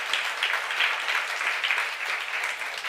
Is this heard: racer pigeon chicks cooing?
no